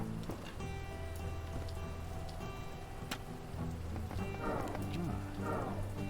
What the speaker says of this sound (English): It's raining. Let's get the water.